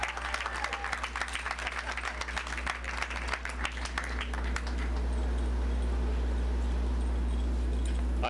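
Graduation ceremony audience applauding steadily for a few seconds, the dense clapping thinning out midway and giving way to a low steady hum.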